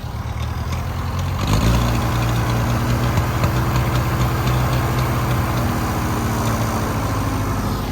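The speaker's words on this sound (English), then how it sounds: "sounds like it could use some carb work," An Allis Chalmers D17 Series IV tractor engine starts and settles into a steady, loud idle with a low, slightly uneven chug, running close by with no talking.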